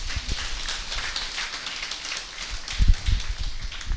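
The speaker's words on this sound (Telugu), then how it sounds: "ఆ ధన్వంతరి పిరమిడ్ 3వ వార్షికోత్సవానికి ఒకసారి గట్టిగా క్లాప్స్ కొడదామండి" Audience at a Dhanvantari Pyramid third anniversary gathering clapping, a dense crackle of many hands with a few louder thumps near the end, moderately loud and steady.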